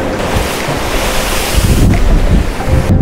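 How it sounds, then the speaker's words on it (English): Ocean waves crash and roll onto the shore at the southern tip of Sweden, loud and close, with heavy wind buffeting the microphone throughout. "There's a lot of waves crashing in."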